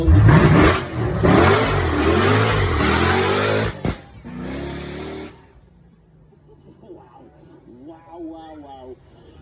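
A Nissan GTR with an engine upgraded from six to eight cylinders revs hard and loud up close, with a rising and falling roar for about four seconds, then a quieter rumble as it fades, with people talking faintly afterward.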